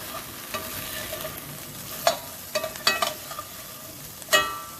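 Stir fry vegetables, including cauliflower, crackle in a hot pan with a soft steady sizzle and several sharper pops and spits standing out near the mic, no talking.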